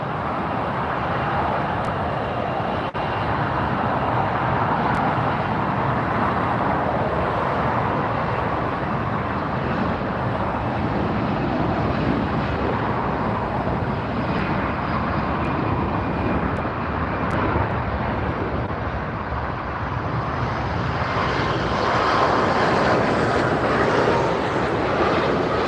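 A Hawaiian Airlines jet passes near LAX, a long, loud, broad engine roar that holds steady and then shifts tone as the airplane goes by, with no voices.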